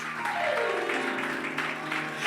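Congregation applauding during a church sermon, a steady wash of clapping with tonal background sound running underneath throughout.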